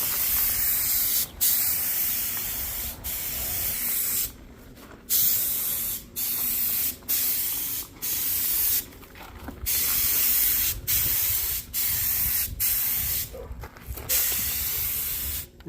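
Bursts of spray painting as clear coat goes onto a carbon fiber hood, steady hissing passes broken by short pauses, close and loud with no talk.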